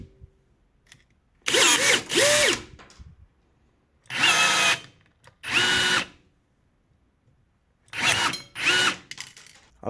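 A cordless rivet gun sets 5 by 20 mm steel rivets in sharp, loud whirring bursts, each lasting under a second and often in pairs, separated by near silence, with no speech.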